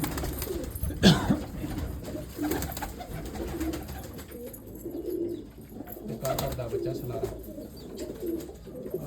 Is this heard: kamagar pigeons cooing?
yes